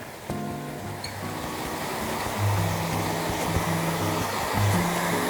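A steady, loud rush of falling water at Pilok waterfall in Thailand during the rainy season fills the scene, with a low droning hum running underneath.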